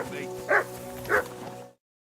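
Dog barking in the medieval role-playing game Kingdom Come Deliverance 2, two short barks standing out over a murmuring background, then a softer third before the sound cuts off.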